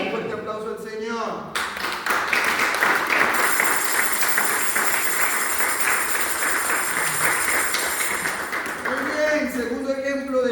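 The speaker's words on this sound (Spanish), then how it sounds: "Un fuerte aplauso al Señor." Church congregation applauding for several seconds in a loud, sustained wash of clapping, with music and a voice briefly audible at the start and end.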